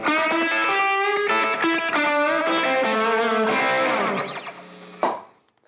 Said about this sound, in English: I also sometimes use slapback delays, which is actually acts more like a reverb.